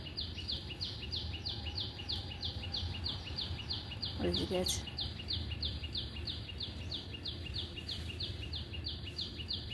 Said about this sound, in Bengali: ওইখানে ছোটো ছোটো পাখিগুলো ডাকছে